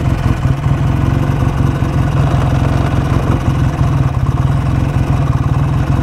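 A BSA A10 650 Super Rocket motorcycle engine idles steadily and close by while its carburettor is being tuned, a continuous loud low throb with an even rapid pulse and no talking.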